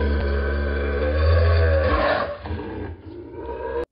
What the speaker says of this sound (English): Eurasian lynx.